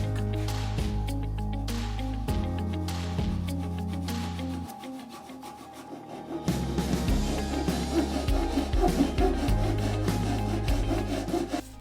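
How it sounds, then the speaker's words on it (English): A wooden fillet is cut and sanded flat in a table saw workshop, with a humming motor and rough, rasping wood abrasion that grows louder and busier partway through. "that's my fillet cut and sanded nice and flat"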